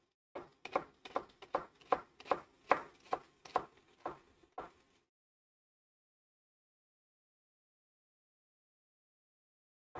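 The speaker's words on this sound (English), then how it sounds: "And then we'll cut through our shallots." A knife cuts through shallots on a board, about a dozen crisp, close, evenly spaced chops over five seconds, then silence.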